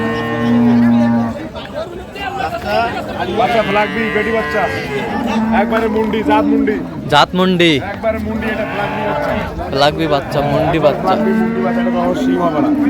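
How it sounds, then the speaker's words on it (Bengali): Cows and calves lowing at a livestock market for improved dairy breeds, loud and close with long drawn-out moos overlapping one another, while people talk nearby. "গাভী বাছুর আমরা দেখছিলাম"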